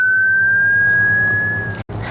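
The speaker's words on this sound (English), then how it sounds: "Have you heard a siren wailing before?" A single siren tone wails steadily and loudly, rising slightly in pitch over two seconds before cutting off abruptly, with a brief dropout near the end.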